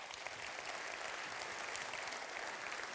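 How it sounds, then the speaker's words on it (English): A conference audience applauds during an opening session on stage, dense, even clapping from many people that stays constant and fills the whole moment. "it's fine to give an applause to the amazing Master of Java"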